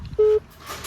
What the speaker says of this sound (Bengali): ফোন রাখছে